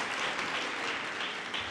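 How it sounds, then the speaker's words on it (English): Applause from a graduation ceremony audience fills the space with a sustained, even patter of many hands clapping at moderate distance. "a round of applause."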